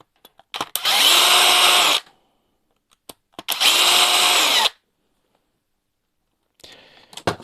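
Power screwdriver with the right bit backing screws out of an HPI Savage Flux XL V2 RC car: two close, loud whirring bursts of about a second each, then a shorter, fainter buzz, with quiet clicks between.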